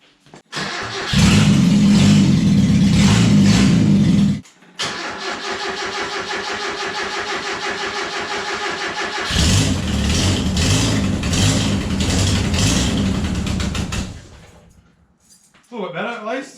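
A Toyota Corolla KE70 engine cranks and catches, idles roughly and loudly up close, cuts briefly, restarts and runs on with some revving before falling quiet, with voices talking near the end.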